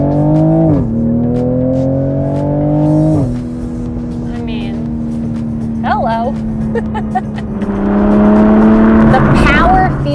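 A 2020 Toyota GR Supra engine revs while driving, rising and falling in loud pitched sweeps with shifts between gears, while a person speaks briefly over it.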